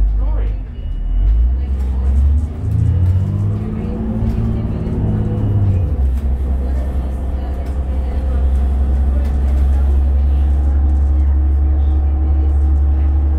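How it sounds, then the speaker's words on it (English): Road traffic and engine noise heard from inside a 2001 New Flyer D40LF city bus on Calgary's 12 Southwest Loop in the evening, a steady loud low rumble with a rising and falling engine tone early on, under occasional talk. "You now get a lot of traffic around here very often."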